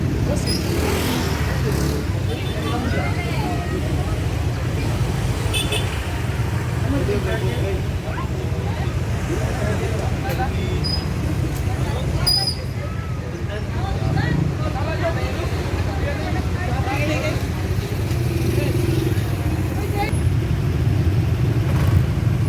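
Heavy road traffic crawls past a packed gasoline station after a typhoon, with a steady low rumble of engines. Voices talk over it. No clear horns stand out.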